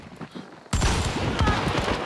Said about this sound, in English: Oh, I missed with a shotgun.